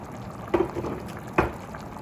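Chunks of carrot and potato drop into a simmering spicy chicken afritada stew, giving two soft wet plops over a low bubbling background.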